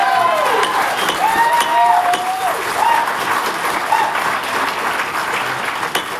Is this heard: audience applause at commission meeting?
yes